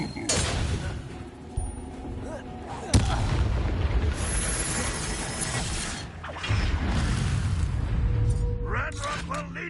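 Incendio fire spells are cast in Hogwarts Legacy, with sharp blasting bursts and whooshing impacts amid a busy, loud combat din, with voices shouting during the fight.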